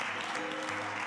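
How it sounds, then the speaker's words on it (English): A church congregation claps their hands together after a sermon, producing a dense, steady wash of applause. A low hum and faint voices sit underneath the clapping. "come on, let's clap our hands"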